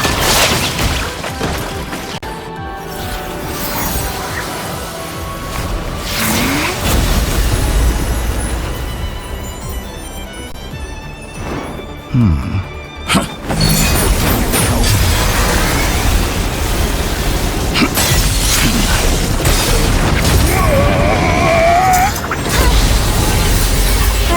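Bombs go off in the Genshin Impact video game, a series of heavy booming blasts and crashes mixed with game effects, loud and close, with bursts that rise and fall across the scene.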